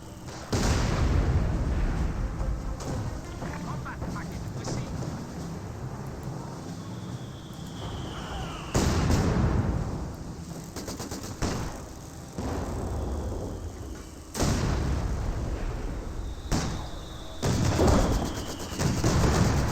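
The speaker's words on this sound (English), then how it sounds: "Good mortar hits there." Mortar shells land in a video game battle, each hit a sharp, heavy boom. Several impacts come spaced seconds apart over a low rumbling background.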